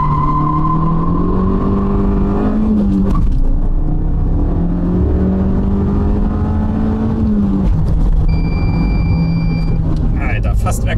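An Abarth 500 accelerates hard from a standstill toward 100 km/h. The loud, close engine note climbs steadily in pitch, drops briefly at two gear changes, then climbs again, with voices talking over it.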